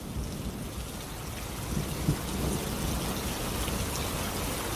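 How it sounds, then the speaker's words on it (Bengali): Steady rain falls at night in an even, continuous hiss with no voices, a soft background wash that swells slightly midway. "এখনও বৃষ্টি থামেনি"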